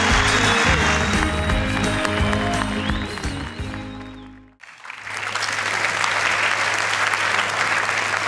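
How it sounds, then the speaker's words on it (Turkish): A studio audience at the Turkish talent show Yetenek Sizsiniz Türkiye claps to send off performers, loud sustained applause over music that fades out and then swells again as the clapping continues. "Biz de Game of Gölge'yi alkışlarla uğurluyoruz"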